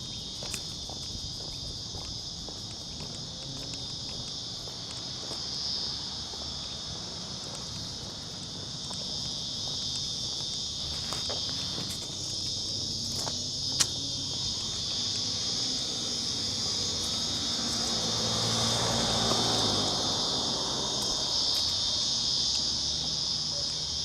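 Dense, steady cicada chorus of an Australian summer in Royal National Park, a continuous shrill drone filling the air for the whole stretch, with faint rustles and footsteps underneath and no talking.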